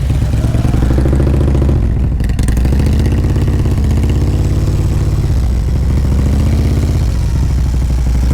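A motorcycle creeps along in a slow-race drill, held back on the brake, its engine loud and close, chugging steadily at low speed with small rises in revs.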